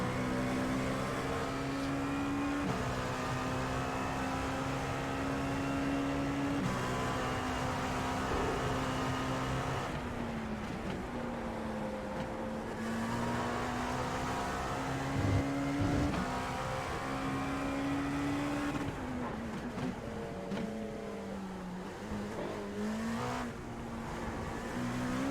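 An LMP2 Dallara P217 race car engine in the iRacing game drones steadily and loudly, rising and falling in pitch through gear changes and throttle lifts over a long, continuous run.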